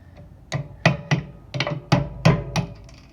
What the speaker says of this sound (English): let's go ahead and hammer it the rest of the way